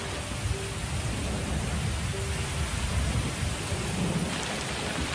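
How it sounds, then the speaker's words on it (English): Heavy November rain pours onto parched savanna ground, a dense, steady wash of hiss with low rumbling thunder beneath it, continuous and even throughout. "The iron grip of the dry season is dramatically released as the November rains soak the parched"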